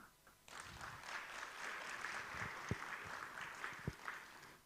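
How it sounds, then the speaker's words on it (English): An audience in a conference hall applauds, the clapping fairly faint and distant with a few sharper knocks, steady for several seconds after an opening burst. "Another round of applause, please."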